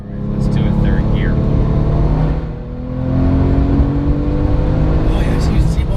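A 2008 Porsche 997 911 GT2 pulls hard through third gear, its engine note climbing steadily, dipping briefly at a shift, then rising again, loud and close from inside the cabin.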